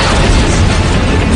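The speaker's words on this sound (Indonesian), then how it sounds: "terkena tembakan dari meriam Jepang" Japanese cannon fire in a Korean action film, a dense, continuous roar of booming blasts and bursts filling the whole moment, loud and close with no pauses.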